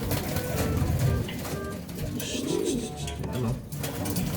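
A pet bird coos and calls in soft, repeated phrases close by, with low voices talking over and around the calls.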